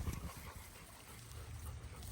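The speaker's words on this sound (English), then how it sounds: "it was just Ziggy having a bark at Roscoe" A shelter dog barks at another dog: a few short, fairly faint bursts near the start, then quieter low sounds, with no speech.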